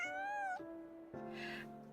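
A cat answers with two clear, close meows, the first long and wavering, the second lower and drawn out, heard alone in a quiet space.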